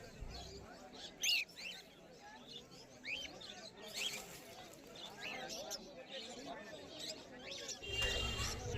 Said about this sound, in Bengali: এখানে কিছু লুটিনো লাভবার্ড আছে।